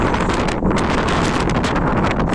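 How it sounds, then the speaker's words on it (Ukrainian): Strong wind in Cape Verde buffets the microphone in a continuous roaring rush, loud and close, with no talking. "Ну, який вітер."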